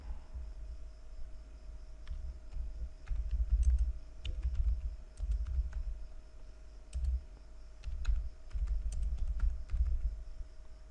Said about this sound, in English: So now I'll type here